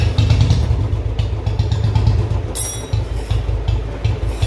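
A motorcycle with an automatic decompressor, tuned for a very low idle, runs steadily up close with a loud, rapid, throbbing low thump and some mechanical clatter, plus a brief metallic squeal midway.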